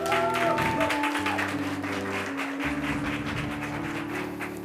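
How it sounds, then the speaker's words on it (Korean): A congregation at a youth church service claps to welcome two visiting sisters, moderately quiet applause over sustained organ or keyboard chords. "여러분 박수로 환영해 주세요."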